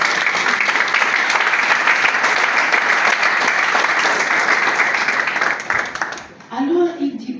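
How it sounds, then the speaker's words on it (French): A church congregation bursts into loud, dense applause that holds steady for about six seconds, then fades out as a voice comes in. "est-ce qu'on va acclamer le Seigneur?"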